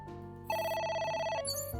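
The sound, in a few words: telephone ringing, from video game AI: The Somnium Files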